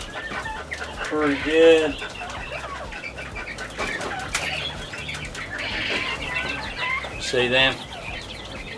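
Chickens, including Brahmas, cluck and squawk loudly in a farm pen alongside guinea fowl, with bursts of wing flapping, while a person speaks briefly nearby.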